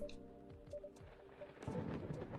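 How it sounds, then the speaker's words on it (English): Thunder rumbles low and steady in the video game Coffee Talk, swelling near the end beneath a faint wash of rain, with no voices. "God, I don't like the sound of thunder."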